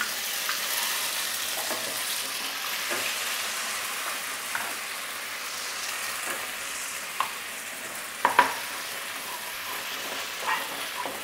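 A pan sizzles steadily as a garlic, ginger and cumin paste fries, with occasional scraping and stirring clicks close by; no voices.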